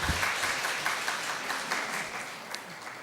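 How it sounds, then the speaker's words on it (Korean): A church congregation at an afternoon service gives big applause to welcome a pastor, a sustained, even roll of many clapping hands that slowly tapers, filling the room at moderate volume. "목사님 나오실 때 큰 박수로 환영해 주세요."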